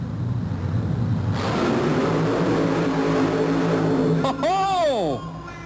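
Supercharged Chevy mud racing truck roaring across wet, slippery clay at a 1990 USHRA event in Oklahoma, a loud sustained engine drone that rises in pitch, then drops away sharply, with a commentator talking over it.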